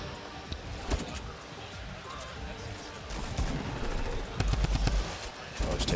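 Rapid gunfire crackles through a Fortnite tournament match, with bursts of shots and impacts piling up under a commentator's excited voice.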